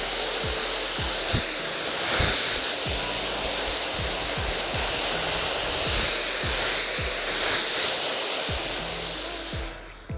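A hair dryer blowing continuously at close range while drying hair at the root, a loud steady whooshing hiss with soft repeated pulses and rustles as the airflow moves near the scalp, no talking.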